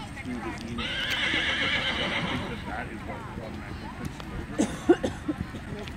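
A horse at a fair horse show lets out a loud, drawn-out whinny, then its hooves clip-clop at a trot in quick uneven beats nearby, with faint voices in the background.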